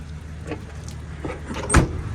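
Power windows on a second-generation Jeep Cherokee XJ run with a low motor whir over a steady engine hum, ending in a brief thunk as a window stops, heard close inside the vehicle.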